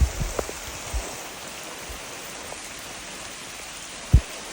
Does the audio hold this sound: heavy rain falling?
yes